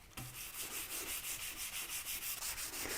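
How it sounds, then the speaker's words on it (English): Steady rhythmic rubbing of a soft sanding pad over delicate chrome paint on a bike, short back-and-forth strokes repeating evenly, close up with no talking. "That's a soft pad and the best for sanding these delicate paint jobs."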